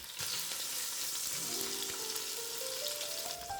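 Beef pieces sear in a hot pan, a steady, close sizzle running throughout with no talking, and a faint rising tone appearing toward the end.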